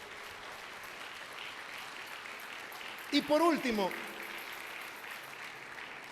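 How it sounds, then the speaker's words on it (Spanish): A church congregation applauds during a sermon, a steady wash of clapping that fills the clip, with a voice speaking briefly over it partway through. "Alégrese y denle un aplauso al Señor."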